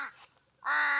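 A crow caws close by: a short call, a brief pause, then a louder, harsh caw, heard alone.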